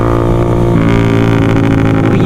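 A motorcycle fitted with a maproll exhaust revs steadily, a loud, close, continuous engine drone with a slight rise in pitch midway and no talk over it.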